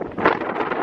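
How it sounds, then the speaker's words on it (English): Strong wind blusters against the microphone outside an old English castle, a loud, continuous rushing roar over a brief moment. "It's very windy."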